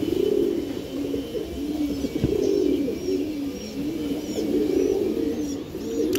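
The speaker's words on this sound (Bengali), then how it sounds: "এই কবুতর টুর্নামেন্টের ছাড়াছাড়ি লাইনের কবুতর" Tournament-line racing pigeons of the Giribaz breed coo steadily and close by, overlapping low throaty calls rolling on without pause, with faint chirps above.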